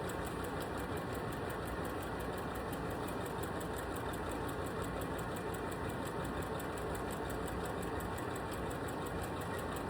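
A sewing machine quilts fabric with a steady, fast, even mechanical whir and clatter, constant and close, with no voices.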